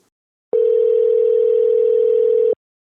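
Steady telephone dial tone heard alone for about two seconds while a call is being placed, a clean continuous hum that starts and stops abruptly.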